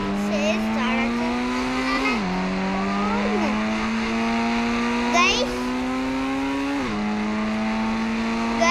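A vehicle engine in the mobile game Indian Bike Driving 3D hums steadily, its pitch climbing and then dropping in stepped shifts, like revving through gears, continuous and close for several seconds.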